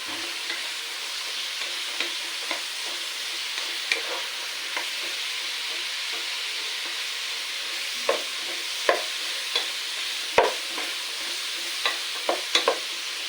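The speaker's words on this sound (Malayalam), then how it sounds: "ഒരു അഞ്ച് മിനിറ്റ് എണ്ണയിൽ വഴറ്റിയ ശേഷം" Bitter gourd frying in hot oil, a steady soft sizzle with scattered small pops and light clicks of stirring throughout, close and alone with no voices.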